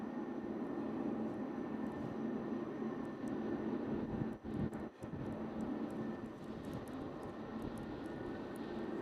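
Aircraft at Louisville UPS World Port airport, a steady broad engine roar that stays loud and continuous throughout, with faint higher ticks over the drone and no talk.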